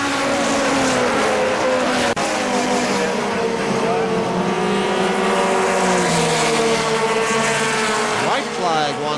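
Race trucks roar around KilKare Speedway, a dense, continuous engine howl with rising and falling pitch sweeps as trucks pass, a brief tire scrub, and an announcer's voice calling the race over the noise.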